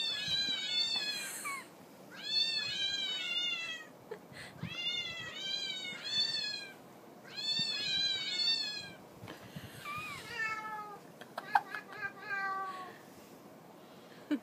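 Several cats meow in repeated bursts, loud and close, with gaps between calls, over a low background of room noise and faint activity.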